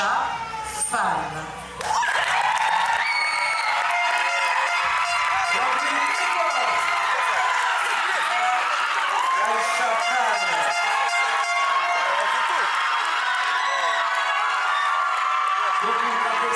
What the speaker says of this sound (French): Beaucoup d'applaudissements pour elle,